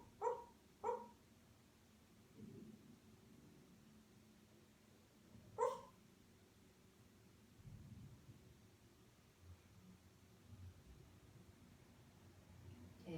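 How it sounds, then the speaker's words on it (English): A few short, muffled barks or yips from a dog barking in its sleep, two close together at the start and one more a few seconds later, against a quiet background hum. "If you hear that sound, that is the sound of my dog Marley, dream barking."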